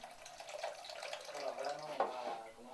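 Water poured into a bowl of traditional gazpacho being prepared with olive oil, a soft trickling and splashing stream that swells and fades, fairly faint, with a brief louder splash near the end.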